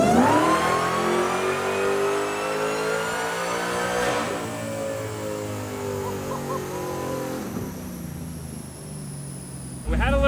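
A Dodge SRT-10 fitted with a Dodge Demon engine revs hard, its loud harmonic roar climbing and holding, then dropping off near the end before another burst.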